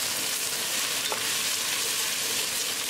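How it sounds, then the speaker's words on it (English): Green chili and onions fry in a tadka for beef rice, a dense continuous sizzle with soft stirring scrapes throughout, steady and close, with no voices. "Cook green chili along with tadka until the onions are nicely transparent"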